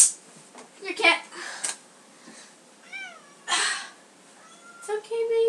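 A pet cat meows indoors, several short rising and falling mews close to the microphone, interleaved with a woman coaxing it in a soft voice.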